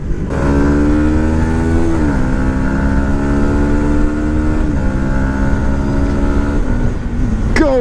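A 2018 Yamaha MT 125 motorcycle engine revs loud and close throughout a ride, its pitch climbing and dropping through gear changes, with a brief sharp rise near the end.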